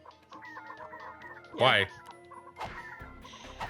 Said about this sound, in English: they use the Morpho Ray and turn themselves into chickens